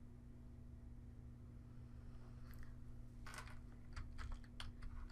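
Soft typing on a computer keyboard starts partway through, a short cluster of faint taps over a steady electrical hum.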